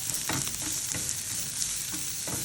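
Shrimps frying in a pan hiss with a constant bright sizzle while a utensil stirs them, scraping in several separate strokes, heard close up with no one talking.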